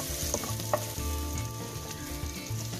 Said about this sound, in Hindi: अब इसमें हम डालेंगे 2 चम्मच बारीकी से काटा हुआ प्याज, थोड़ा इसे सौते कर लेते हैं।